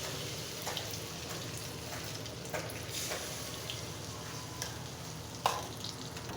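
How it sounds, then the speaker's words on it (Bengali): Egg and rice-flour papor pitha fry in a pan with a steady, close crackling sizzle and occasional sharper pops and spits. "এবার ঠিক এইভাবে সবগুলো পিঠাই বেজে নিতে পারো"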